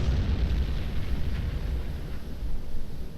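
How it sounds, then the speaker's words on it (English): Torpedo explosions striking a ship in the Silent Hunter 5 submarine game: a continuous heavy, booming rumble that rolls on loudly for several seconds with no talk over it. "2 torpedoes. 2 hits."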